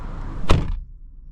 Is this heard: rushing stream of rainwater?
no